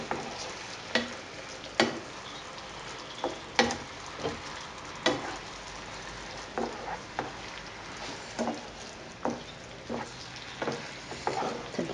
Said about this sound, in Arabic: كنصبو عليها هاد الكبدة بعد ما قطعناها على هاد الشكل، كنمزجو هاد الطشمولة مع الكبدة مزيان